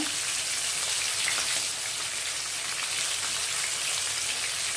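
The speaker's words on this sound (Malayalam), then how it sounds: "പരട്ടി വെച്ചത് നമുക്ക് ഈ എണ്ണയിൽ ഒന്നിങ്ങനെ ഒന്ന് വറുത്തെടുക്കാം" Coated okra (ladies finger) frying in hot oil for a crispy fry, a dense steady crackling sizzle like rain, close and continuous with no talk.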